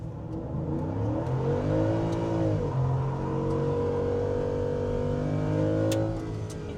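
A boosted Ford F-150 pickup truck launches and accelerates hard, its engine rising through climbing revs and gear shifts in a loud, sustained roar heard close by.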